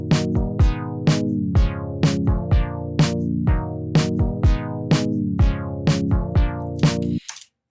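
Rhythmic synth chords gated by an auto filter pulse in time with drum hits, each stab cutting off sharply, a steady loud pattern that stops abruptly near the end.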